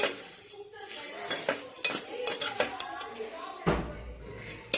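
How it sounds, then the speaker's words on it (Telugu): Semiya vermicelli sticks are roasted in a pan until golden, with repeated clinking scrapes of a metal spoon stirring against the pan and a faint sizzle underneath, close and irregular. "సేమియా పుల్లలు అయితే గోల్డ్ కలర్ వచ్చే వరకు వేసుకోవాలి"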